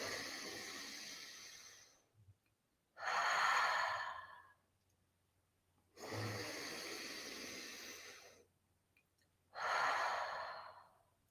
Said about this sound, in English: please take 2 deep breaths.